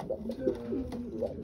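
A blue bar racing pigeon cock coos in low, throaty bursts, with several repeated rolling phrases close by and no talking.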